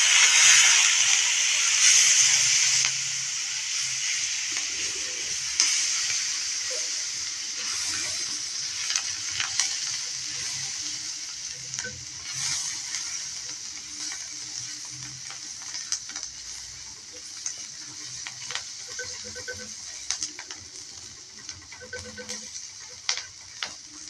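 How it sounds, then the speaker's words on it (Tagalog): Garlic frying in margarine in a pan, a steady loud sizzle that settles into softer crackling with occasional ticks and stirring scrapes, close up and without talk. "Lalagay na natin guys yung bawang."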